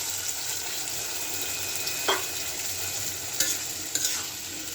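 Small potatoes frying with cooked-down spices in a pan on a gas flame, for a light fish curry with brinjal and potato; a steady soft sizzle with a few brief scraping stirs, fairly quiet and without talk.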